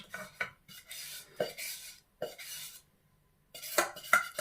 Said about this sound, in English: So we'll just tip out the contents of the pan into our ring mould like this.